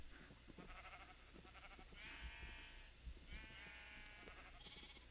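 Sheep bleating in a video game, two or three wavering bleats over a soft continuous background, faint and evenly spaced.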